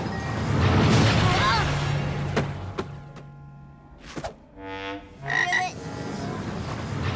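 A cartoon frog croaks in short, bubbly, resonant bursts, mixed with a couple of sharp thunks and a magical swoosh effect, while voices and music sit around it.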